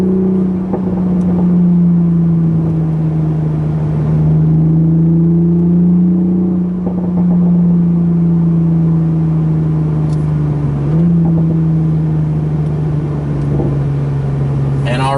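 A 2020 Toyota Supra drives the winding Tail of the Dragon road, its engine a steady loud drone that rises and falls with throttle and gear changes, sometimes with faint tire and road noise underneath.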